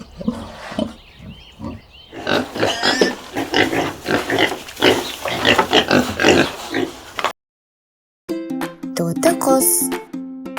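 Pig grunting in a run of close, rough grunts and snorts that fill most of the clip, then a short silence followed by a different, tonal animal call.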